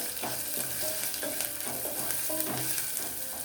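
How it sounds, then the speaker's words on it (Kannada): Chopped onion and garlic fry in hot oil for rice tempering, giving a steady, close sizzle with soft stirring scrapes and a few faint clinks throughout, no voices. "ಇಲ್ಲಿ ಮೇಯ್ನಾಗಿ ಈ ಈರುಳ್ಳಿ ಬೆಳ್ಳುಳ್ಳಿ ಎಣ್ಣೆಯಲ್ಲಿ ಸಕ್ಕತ್ತಾಗಿ ಫ್ರೈ ಆಗಬೇಕು"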